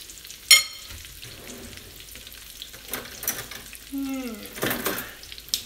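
Thin pounded pork loin sizzles in a pan while being fried for sandwiches, a soft steady crackle broken by a few clinks and scraping handling sounds near the end.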